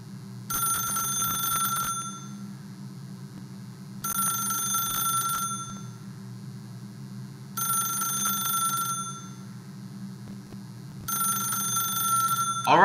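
An old-fashioned telephone bell rings in The Stanley Parable video game, sounding in four evenly spaced bursts of about a second and a half each over a low steady hum, moderately loud and heard alone.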